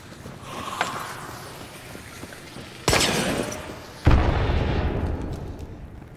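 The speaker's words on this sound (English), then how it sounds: "Explosion dynamite" Two loud booms from dynamite in the game Hunt: Showdown: a sharp blast near three seconds and a heavier, rumbling one about a second later, each trailing into a long noisy decay.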